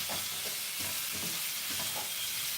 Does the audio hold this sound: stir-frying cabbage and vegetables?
yes